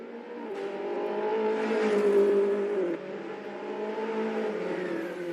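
Race car engines in the Assetto Corsa game, with a car exiting the pits on medium tyres in a league race: a continuous engine drone rises in pitch, drops at a gear change, then builds again, with no talk.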